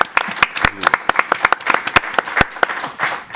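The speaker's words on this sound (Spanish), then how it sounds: "Aplauso." Studio audience applauding during a Spanish talk show discussion of film, a burst of sharp, close, uneven claps with a few loud individual hits, no talking over it.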